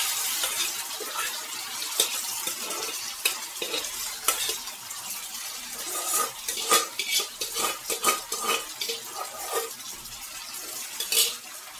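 Ground leafy greens being stirred into a cooking pot for a tangy Andhra leafy-greens curry, with steady scraping of a spoon against the pot, clinks of metal and a light sizzle running throughout, close and continuous with no talking.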